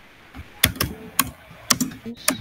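Code is typed on a computer keyboard in a few close, crisp keystrokes, irregularly spaced and fairly loud, with no voices.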